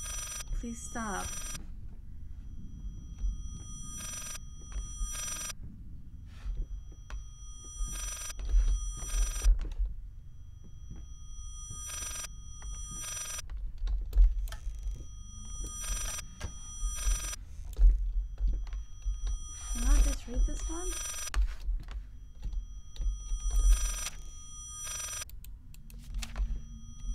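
Telephone ringing in the horror video game Layers of Fear, steady repeated ring bursts throughout over a low droning background, with a voice briefly speaking between rings.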